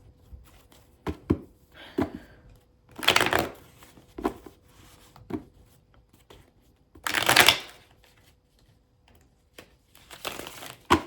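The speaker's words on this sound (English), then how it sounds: "let me get a shuffle for you" Tarot cards being shuffled by hand at close range: several separate bursts of crisp riffling and brushing, with short pauses between, no talking.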